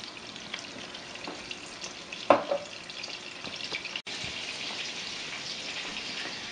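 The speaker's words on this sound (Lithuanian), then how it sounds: "Taip, labai gražiai kepa vištiena." Chicken pieces fry in a hot pan with a steady crackling sizzle, close up, broken by a brief clatter and a sharper burst of spitting oil midway.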